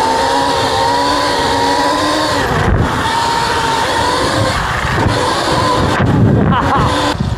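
A modified Sur-Ron electric motorbike's tyre tears and scrubs loudly across concrete, a continuous rough roar with whining tones and a few sharper bursts, close to the listener throughout.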